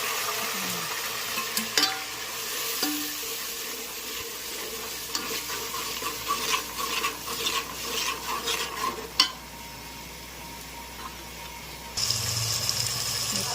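Grated cabbage stir-fries in hot tempering in a pan for pav bhaji. A spoon scrapes and clinks repeatedly over a continuous close sizzle, with a louder burst near the end.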